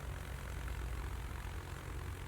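Aircraft engines in World of Warships, a continuous low droning hum of planes overhead, steady and fairly faint, with no speech.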